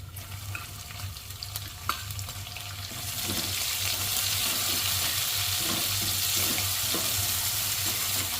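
Finely chopped onion goes into hot oil and fries in a pan for spicy matki bhaji, a steady bright sizzle swelling after a few seconds and continuing loud and close with faint stirring taps.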